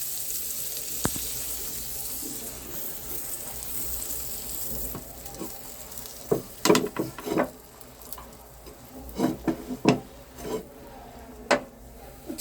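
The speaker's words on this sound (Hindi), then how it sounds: "असेंबल करने के लिए हम मक्खन में अपने बन को रोस्ट करेंगे थोड़ा थोड़ा" Burger buns being toasted in butter in a pan for veg aloo tikki burgers: a steady low sizzle runs throughout, with sharp clicks and scrapes of a spatula pressing the buns toward the end. No one speaks.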